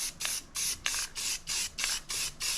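Short hissing bursts of spray from an aerosol can, about eight quick pulses in a steady rhythm, close and fairly soft.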